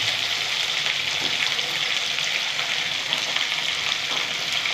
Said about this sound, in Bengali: এইভাবে আলুটা তোমরা ভেজে নেবে